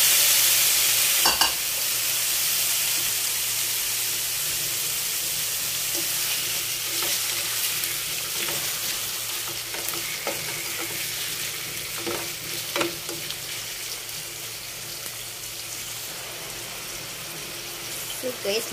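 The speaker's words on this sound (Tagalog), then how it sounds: "So, ilagay na natin guys ang ating squid." Squid for adobo fries in a pan, a continuous bright sizzle with repeated scraping stirs and clinks of the utensil, close and clear throughout.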